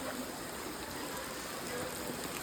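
Rainwater runs along in a stream, giving a steady, even rushing wash of water that stays constant and fairly faint throughout.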